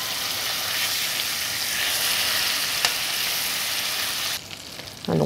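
Guinea fowl supremes fry in foaming butter with garlic, a loud steady sizzle close to the pan with a brief clink of a utensil; near the end the sizzle drops briefly as the pieces are turned.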